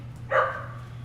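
A single short dog bark rings out from a home kitchen, moderately close and over a steady low hum, with no talking.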